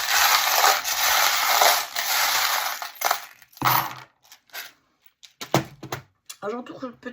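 Metal charms are drawn and dropped, a dense, noisy clinking and jingling close by that thins into a few separate clinks, with a voice speaking briefly near the end.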